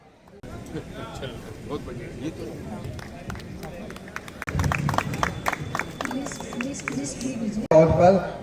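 Clapping builds from an audience at a Diwali get-together of a Marwari community association in Raniganj, West Bengal. Voices and crowd murmur run throughout, and the claps grow louder and denser in the second half.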